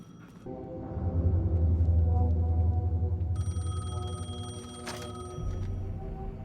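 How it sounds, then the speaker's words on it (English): A payphone in the video game Alan Wake 2 rings with a bright electronic trill over a low droning hum, with a brief clunk near the end. "The payphone was ringing."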